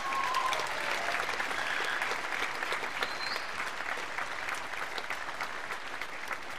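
An audience at a gymnastics celebration applauds steadily, a dense patter of many hands clapping that holds at an even level before easing slightly toward the end, with no talk over it.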